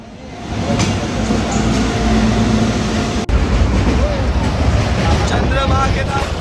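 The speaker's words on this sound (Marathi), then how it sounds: "बघा ट्रेन आलेली आहे." A train pulling into a station, a loud steady rumble and rolling noise close by with wind and crowd noise, and people talking over it.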